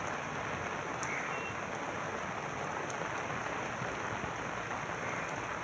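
Heavy monsoon rain pours down in Bhiwandi, a dense, continuous roar of drops beating on surfaces with no voices, steady and close throughout.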